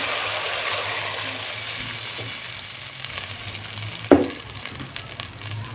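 Vegetable biryani masala with cooked yogurt sizzles faintly in a pan, then a cup of water is poured in with a sharp splash that fades back into a soft, steady hiss.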